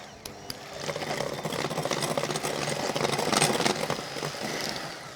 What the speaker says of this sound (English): I would recommend using an electric whisk because we're going to be whisking for quite a while here